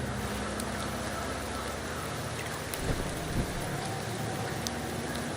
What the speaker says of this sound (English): The rains in Septimon never seem eager to leave this season.